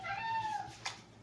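A plump house cat lets out one clear, close meow that rises and falls, followed by a faint short sound, in a quiet indoor room.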